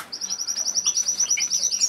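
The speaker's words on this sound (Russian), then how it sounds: "там два зяблика прыгают в клетке" Two caged finches chirp in rapid, repeated high tweets close by, with faint wing flutters now and then and no talking.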